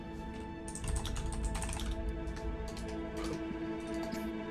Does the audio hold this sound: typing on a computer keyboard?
yes